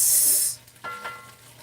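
Hot chicken stock is poured into a soup pot of creamy broccoli cheddar soup, starting with a loud steaming hiss that quickly gives way to a quieter sizzle and bubbling.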